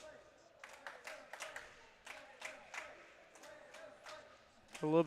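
Spectators at a college men's tennis match on senior night clap in uneven bursts and call out, faint and distant, with a louder voice breaking in at the very end.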